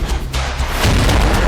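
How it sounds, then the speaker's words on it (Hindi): A loud blast roars through an open parade ground during a CISF security forces raising-day demonstration staging an attack on a passenger bus, a dense, sustained rumble that swells louder partway through. "तभी अचानक भीषण धमाका वातावरण को दहला देता है।"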